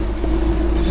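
A fishing boat engine idles on Kentucky Lake, a steady low rumbling hum at close range with faint wind noise, no voices.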